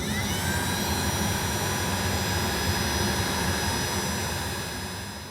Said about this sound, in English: now I'm going to come in here with my heat gun and shrink all the heat shrink down